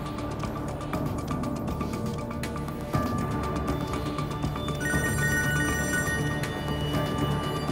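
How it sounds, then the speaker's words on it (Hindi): A telephone rings repeatedly in a dramatic scene, its electronic bell tone sounding in steady bursts over background music, with no one speaking. "फोन तो उठाओ कम से कम।"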